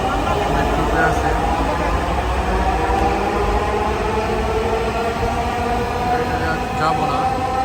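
Steady rumble of a Dhaka metro train and station ambience on the way to Bijoy Sarani, a continuous loud roar with voices talking over it.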